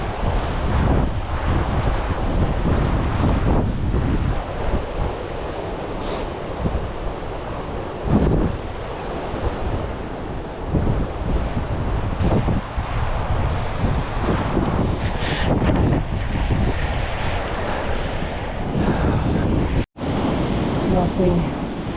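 Steady roar of a river rushing through a valley in Kyrgyzstan, with heavy wind buffeting the microphone, continuous and loud throughout, with faint voices now and then.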